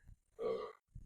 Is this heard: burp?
yes